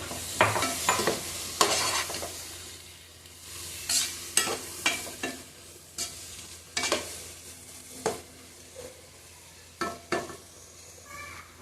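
Mushrooms frying in a pan for biryani, with a soft sizzle under repeated stirring scrapes and clinks of a utensil against the pan, close and intermittent, no talking.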